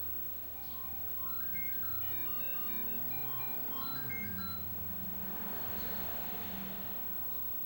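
Faint electronic beeps and tones from a Commodore SX-64 computer sound test play in a quick melodic sequence over a steady low hum, thin and distant.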